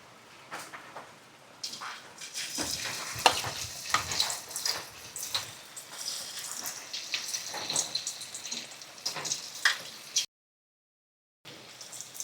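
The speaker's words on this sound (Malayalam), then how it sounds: "അപ്പോൾ നമ്മൾ മിക്സ് ചെയ്ത് വെച്ചിരിക്കുന്ന ഈ കൂട്ട് കുറേശ്ശെയായിട്ട് ചൂടായ എണ്ണയിലേക്ക് ഇട്ട് കൊടുക്കാം" Spoonfuls of green taro stem baji batter hiss and crackle steadily as they drop into hot oil, a close, busy frying sound that cuts out briefly near the end.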